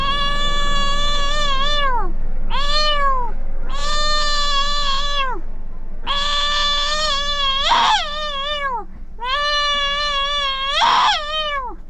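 A human voice imitates a cat meowing over tasty food, giving a run of long, wavering, whiny meows in bursts with short gaps, close and loud, some with rough, strained edges.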